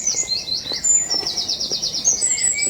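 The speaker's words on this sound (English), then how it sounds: "That's a Jenny Wren" Eurasian wren song in a forest at sunrise, a rapid run of high, bright trills and chirps over a quiet background of other distant birds, fairly near and steady throughout.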